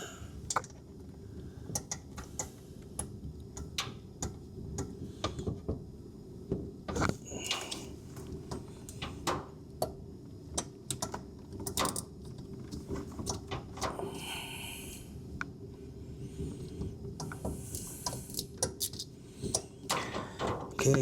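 Small metal screws being worked loose by hand from the MAP sensor on a 1996–2000 Honda Civic with the D16Y7 engine, giving faint scattered clicks and scrapes over a steady low background, close by and quiet.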